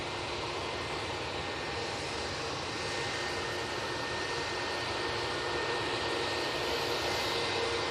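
A Lufthansa airliner departs Manchester Airport for Frankfurt, a steady, moderately distant jet engine roar that holds without a break.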